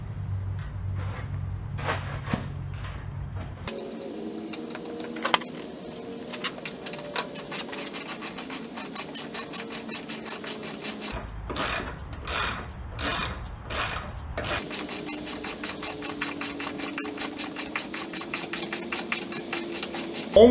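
A ratchet tightens a 9/16 nut on the front shock of a 1995-2005 GMC Safari / Chevrolet Astro van, producing quick runs of close, quiet clicks in several separate bursts with brief gaps between them.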